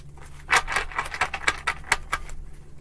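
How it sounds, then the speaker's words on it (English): A deck of tarot cards being shuffled, with a series of crisp riffling and slapping bursts about every quarter second over a quiet background, fairly close. "Three more shuffles."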